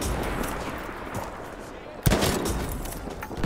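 Krag-Jørgensen rifle fire in Battlefield 5, with one sharp, loud shot about two seconds in and another crack right at the end, over a steady bed of in-game battle noise.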